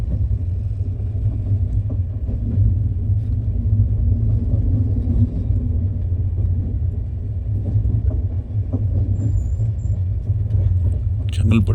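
The Pandiyan Express train, running out of Tambaram toward Chengalpattu, gives a steady, loud low rumble without letup, with faint rattles on top.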